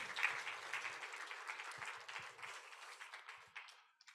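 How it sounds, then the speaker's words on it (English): A modest audience at a student lightning-talk event applauds its six presenters, a light, fairly close patter of clapping that thins out over four seconds with a few scattered voices underneath. "How about another round of applause for all six of our"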